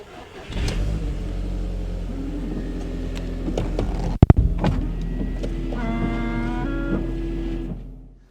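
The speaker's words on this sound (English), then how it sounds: "see if the windows drop when the door is open" A Mk1 Audi TT door clicks open with a sharp knock, followed by the whirring hum of the electric window motor dropping the glass, under a steady idling engine.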